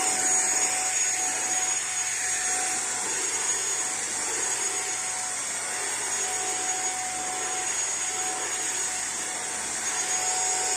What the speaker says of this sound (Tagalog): Vacuum natin. Para matisting natin yung talagang gumagana.